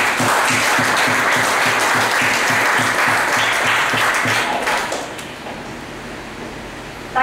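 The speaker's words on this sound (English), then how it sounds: "let us bring on to the podium with a lusty round of applause" A crowd applauds as a speaker is welcomed to the podium at a Generation Next political meeting in Couva South. Loud, dense clapping with a steady low rhythmic pulse beneath it drops away to a quieter background after about five seconds.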